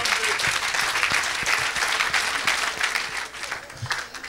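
A church congregation claps steadily for Jesus Christ. The applause is dense and continuous for the whole stretch and stays at an even, loud level.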